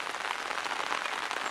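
Rain falls on a garden, giving a steady, dense patter of drops at moderate loudness with no talking over it.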